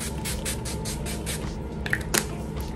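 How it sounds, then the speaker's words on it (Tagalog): Several quick spritzes of Hello Glow rose water face mist sprayed onto the face, a soft rhythmic hiss repeating close to the mic, followed by a couple of small clicks near the end. "I'm gonna spray my face now with"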